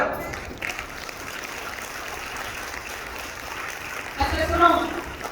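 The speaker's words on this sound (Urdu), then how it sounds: "ابراہیم کے لیے تالیاں بجاؤ." A church congregation bursts into applause during an Urdu sermon, a sustained patter of clapping hands at moderate volume that swells near the end, with voices around it.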